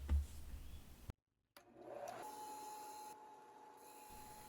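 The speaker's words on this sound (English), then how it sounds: "Using the 8-inch sanding disc attachment, I now thin the scales down to a uniform thickness" An 8-inch sanding disc grinds down knife scales, giving a whirring abrasive drone with a brief cut-out partway through, then a steady hum from the disc running on.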